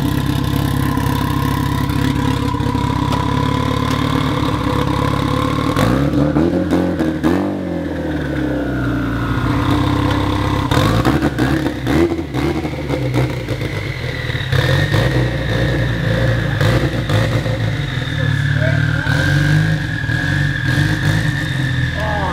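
A 500 hp Mitsubishi Evo with a new ACT twin-disk six-puck clutch drives off, its engine droning and revving through gear changes with clattering, rising and falling pitch, close and loud throughout.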